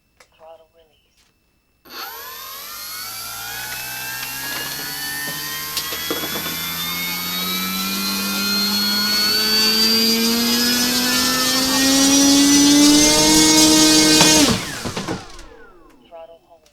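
Durafly Tundra V3 RC plane motor on a 4S system revving on a bench, a loud whine that climbs steadily in pitch over about twelve seconds before cutting off sharply.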